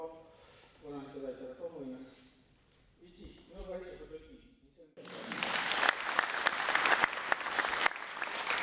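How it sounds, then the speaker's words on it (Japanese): Attendees at a meeting for Imabari's Onmaku citizens' festival applaud to approve the year's budget; speech comes first, then a sudden burst of loud, dense clapping that carries on to the end. "出席者が拍手をして承認しました"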